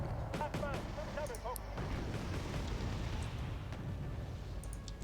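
Distant artillery and mortar fire in the real-time strategy game Wargame Red Dragon, a continuous rumbling barrage with scattered booms, briefly overlaid by a chirping unit voice or radio effect early on.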